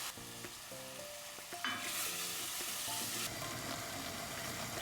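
Onion and Sichuan chili bean paste fry in a hot pan with a steady, loud sizzle that jumps sharply after the first second and a half, punctuated by light stirring scrapes, no voices.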